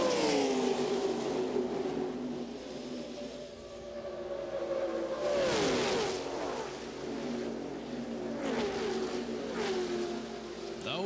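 NASCAR Xfinity Series stock cars roar around Talladega Superspeedway in the closing laps of the 1999 Touchstone Energy 300, a loud, sustained drone of multiple engines with shifting pitch as cars sweep past.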